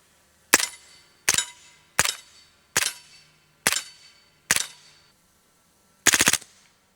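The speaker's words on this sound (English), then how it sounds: "we're going to flip her to full auto and just send her" A firearm fires suppressed full-auto through a Lonestar silencer in seven sharp, close bursts at regular intervals. The last burst is the longest, and each one is followed by a brief ringing decay.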